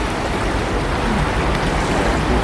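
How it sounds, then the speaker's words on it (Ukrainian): A flooded river spills over its banks, giving a loud, steady rushing roar of water throughout, close and without talk. "і побачили, що тут річка вийшла з берегів"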